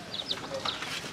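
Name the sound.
baby chicks cheeping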